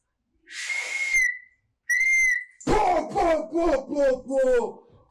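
A shrill homemade invention whistle blows in short bursts, first alone and then a few times more, followed by a voice speaking in rising, choppy phrases.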